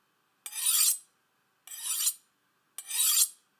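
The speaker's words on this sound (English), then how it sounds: "run the knife along the steel, ending with the tip of the knife to the tip of the steel" Knife blade drawn along a honing steel from heel to tip, three separate swift rasping strokes spaced about a second apart, close and fairly quiet against silence.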